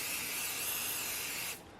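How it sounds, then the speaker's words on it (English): A close, continuous hiss of temporary adhesive spray from an aerosol can, applied inside a marked rectangle while making an embroidered twill patch. It holds steady for about a second and a half, then stops abruptly, with no talk. "we're going to spray inside that rectangle"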